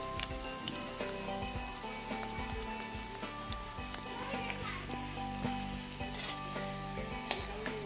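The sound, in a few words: potatoes frying in oil for mutton curry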